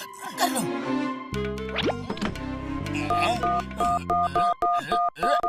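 A cartoon telephone is dialed: a run of short, evenly spaced tonal beeps comes up close in the second half, after a stretch of cartoon speech and bouncy sound effects.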